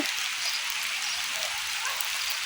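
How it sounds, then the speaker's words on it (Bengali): Light rain patters steadily in a soft, even hiss of droplets, close and continuous, with no voices. "ধীরে ধীরে বৃষ্টি পড়তেছে।"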